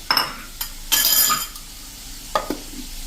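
Potatoes frying in a pan with fenugreek are turned with a spoon: sharp scraping strokes, a loud burst of sizzle, then quieter frying and a couple more spoon scrapes, close and clear.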